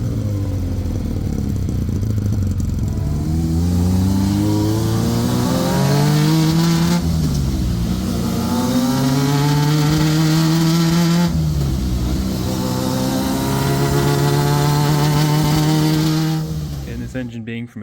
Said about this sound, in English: Engine being from a 2001 model Kawasaki Ninja is carbureted, but it seems to run all right.